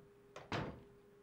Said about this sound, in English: Now I'll check this door.